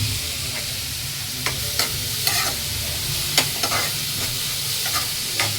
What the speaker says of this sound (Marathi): डाळी घेते, डाळीला फोडणी द्यायची आहे